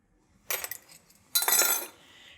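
Three large eggs with vanilla are beaten in a bowl, giving two short bursts of quick, bright clinking and scraping from the whisk against the bowl, separated by a pause.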